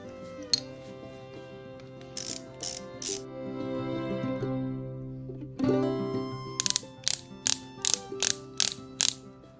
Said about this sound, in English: we're going to tighten these down to 18 foot-pounds, which is also 216 inch-pounds